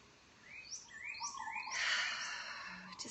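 Birds chirp and trill nearby, a few rising and falling calls over a soft hiss of background noise.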